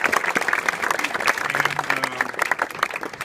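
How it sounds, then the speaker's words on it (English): Steady applause from a crowd at a political house party, dense continuous clapping filling the space at an even level throughout. "Can we give them a great round of applause?"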